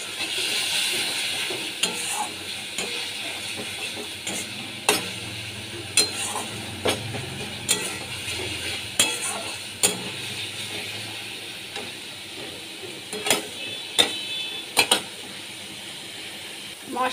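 Spice paste with Kashmiri chilli powder frying and being stirred in a pan for an egg curry with cauliflower and potato, a soft steady sizzle broken by repeated sharp scrapes and clicks of the spoon, no talk.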